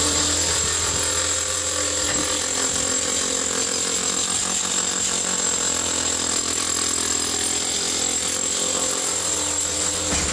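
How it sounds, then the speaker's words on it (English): A power drill bores steadily into a house's concrete foundation during a termite treatment in New Jersey, a continuous loud grinding whine that holds for the whole stretch with no talking. "We're drilling the foundation."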